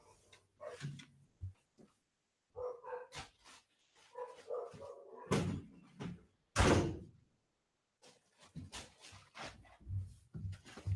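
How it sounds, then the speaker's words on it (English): An indoor door is shut with a couple of sharp thuds, set among bursts of nearby dogs barking excitedly. "I'm actually going to go shut the door real quick."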